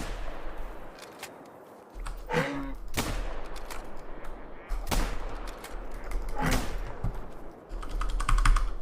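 Video game gunfire sounds in several sharp, loud bursts separated by pauses of a second or so, over a low background rumble and quick, light clicking.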